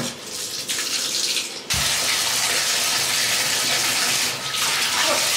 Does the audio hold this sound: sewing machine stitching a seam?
no